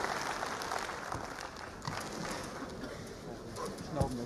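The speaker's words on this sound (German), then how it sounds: "Und viel Applaus auch für Jörg Heidenreich." Applause from a crowd at a sports event in East Germany, SC Traktor Schwerin versus SC Chemie Halle, a steady broadband clatter of clapping filling the whole stretch with some voices mixed in.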